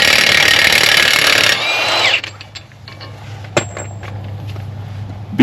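A powerful impact-style power tool working on the front strut nuts of a 2006–2009 Ford Fusion: a loud harsh buzzing burst that cuts off after about two seconds, followed by quieter mechanical clicks and a sharp clank.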